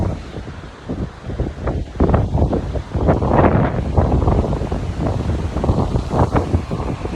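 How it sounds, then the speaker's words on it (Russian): Strong gusts of wind buffet the microphone on a dusty street in Taraz, Kazakhstan, a continuous rushing roar rising and falling without speech. "на улице ветрено, пыльно"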